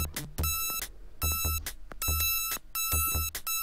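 Repeated electronic beeping from the video game Zero Tolerance, sounding in four evenly spaced bursts of rapid tones like an alarm clock, loud and without talk.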